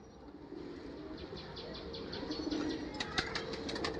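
A pigeon flaps its wings close by in a loft or pigeon market, a run of soft rhythmic wingbeats over a low hum, growing sharper and more rapid in the last second.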